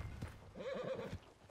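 A horse in the video game Red Dead Redemption 2 gives a close, loud whinny with a few hoof clops around it, all within a brief moment and no talk.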